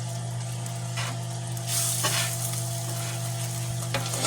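Pepperoni slices sizzling and frying in a pan, a steady loud crackle with a few scrapes and pops of stirring, no voices.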